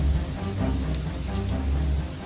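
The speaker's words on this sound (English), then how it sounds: "these toxic rains are some of the worst you'll find anywhere in space" Steady, dense rain pours down continuously with a deep low rumble beneath the hiss, a depiction of toxic rain on another planet, heard alone without voices.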